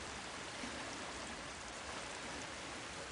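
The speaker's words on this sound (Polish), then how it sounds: "Uwielbiam takie przejścia za wodospadem." Waterfall behind a passage in a Harry Potter video game, a steady, soft rushing wash of falling water with no breaks, faint and unchanging throughout.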